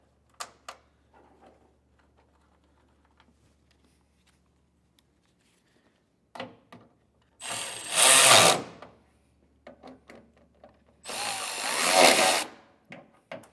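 A power tool drives screws into a 2022 GMC taillight mount during a wiring kit install, two loud buzzing bursts of about a second each, separated by quiet handling clicks and small knocks.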